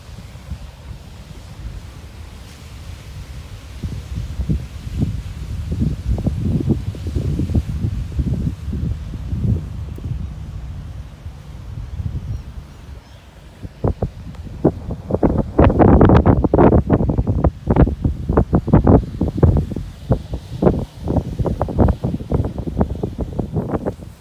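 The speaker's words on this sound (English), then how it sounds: "listening to the waves." Ocean waves at the beach at Jetty Park in Fort Pierce, Florida, rolling in with rhythmic surges and breaking washes, some wind buffeting the microphone, a louder surge in the second half, no voices.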